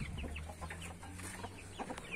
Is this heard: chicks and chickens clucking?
yes